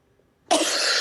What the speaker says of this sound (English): coughing, covering your mouth